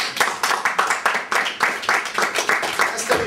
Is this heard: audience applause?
yes